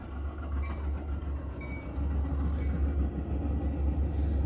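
A Metro commuter train passes close by, its steady, loud rail rumble and rolling wheel noise filling the whole stretch without a break.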